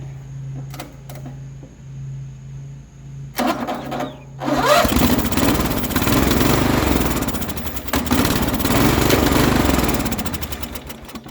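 A small lawn mower engine cranks briefly, then catches at about four seconds and runs loudly and steadily with a rough, buzzing idle through the rest, alone and close by.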